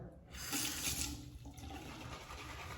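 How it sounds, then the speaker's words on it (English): Tap water running into a shaving brush and bowl of thick, tropical-scented shave soap: a continuous close rushing flow with a slight swell partway through, steady to the end. "Let's add a little bit of water."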